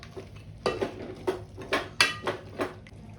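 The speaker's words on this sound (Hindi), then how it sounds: "थोड़ा सा वाटर आपको ऐड करना है और इसको मिक्स करना है" Spoon scraping and clinking against a metal pot while water is stirred into chicken gravy, in roughly six distinct bursts of stirring with short quiet gaps between them.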